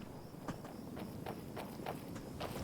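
Footsteps of the companion Serana walking up a path in Skyrim, a regular series of soft, evenly spaced steps over a steady, low ambient background, with no talking.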